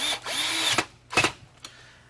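Cordless power drill driving screws into a Kirby Generation vacuum cleaner housing during suction fan replacement, a short whirring burst followed by two brief bursts with pauses between.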